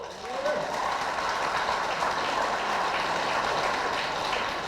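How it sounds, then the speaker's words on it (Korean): Audience applause at a lecture seminar in Busan: a continuous, dense roar of clapping from a large crowd, steady and fairly loud, with a voice briefly heard at the start. "박수!"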